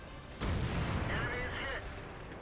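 The ISU-152 tank destroyer's BL-10 cannon in World of Tanks fires a single deep, heavy boom, followed by a lingering rumble and a brief ringing tail, with faint background game ambience.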